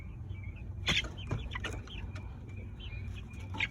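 Lavender Orpington chickens cluck softly and sporadically nearby, with brief scattered calls over quiet background noise.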